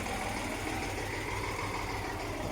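A tractor engine idles steadily at close range, a continuous low rumble with mechanical vibration that holds even throughout, with no voices.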